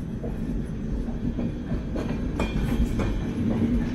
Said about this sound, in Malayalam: അപ്പുറത്തു കൂടെ മംഗള എക്സ്പ്രസ് ഇറങ്ങിപ്പോകുന്നതാണ് സംഭവം.